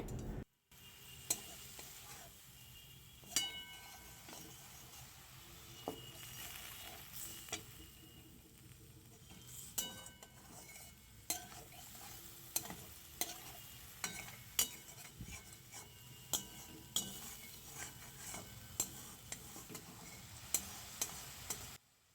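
Spices for a fish curry cooking down with a little water in a pan, giving a steady low sizzle with repeated utensil scrapes and taps as they are stirred throughout.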